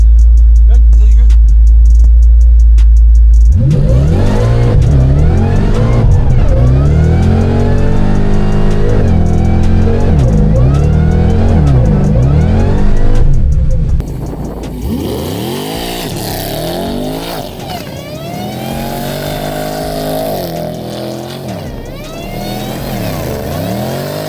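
Single cab GMC Sierra Denali pickup revving hard during a burnout, a loud sustained engine roar with rising and falling pitch sweeps, easing slightly toward the end while still climbing and dropping repeatedly.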